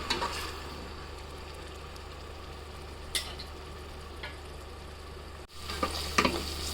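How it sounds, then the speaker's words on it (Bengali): Spice masala for chicken biryani frying in a pot on an electric stove, a steady soft sizzle with a few brief clinks and scrapes of stirring near the end. "মশলাটা ভাজা হয়ে গেছে আমি একটু পানি দিয়ে দিব"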